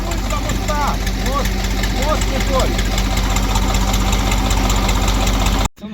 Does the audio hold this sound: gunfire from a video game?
no